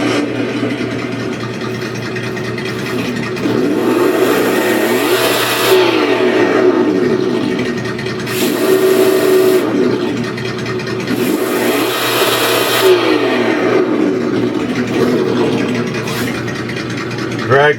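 An Axial RC Jeep with dual motors, a drag brake and an upgraded transmission revs up and down in repeated rising and falling whines, loud and close, with a voice talking now and then.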